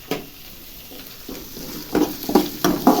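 Small onions frying in a pan, a low sizzle at first, then a quick run of louder scraping stirs close by near the end.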